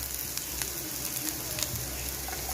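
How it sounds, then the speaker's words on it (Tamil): Chopped capsicum sautés in a pan with a steady, dense sizzle throughout. A few light clicks and scrapes sit on top of the frying. "இப்போ கொஞ்சமாக ஒரு குடமிளகாய் சேர்த்துக்குவோம்."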